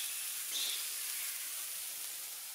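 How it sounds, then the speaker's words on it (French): Steak sizzling in a frying pan, a steady soft hiss of fat crackling close by that swells briefly near the start and then holds even and low throughout, with no voices. "Entendez ce bruit du steak qui cuit à la poêle."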